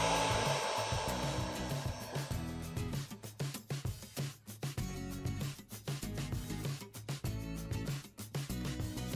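A heat gun or hair dryer blows on a carbon-look vinyl sheet applied to the interior trim of a new Suzuki Spacia Custom, giving a steady airy whoosh that cuts in and out in short bursts, with background music underneath.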